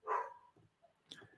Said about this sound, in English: that dog will be barking all night